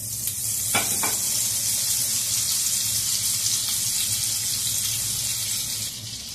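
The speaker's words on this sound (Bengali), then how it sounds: "তেলটা গরম হয়ে গেলে এর মধ্যে আমি অল্প বাটার দিয়ে দেবো।" Butter melting into hot oil in a pan, giving a bright, continuous sizzle and crackle close up that stays steady and eases slightly near the end, with no voices.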